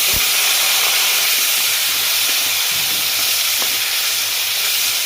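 Onion dropped into hot oil for a potol korma gives a loud, steady broadband sizzle with steamy hiss, holding evenly throughout with a few faint stirring clicks.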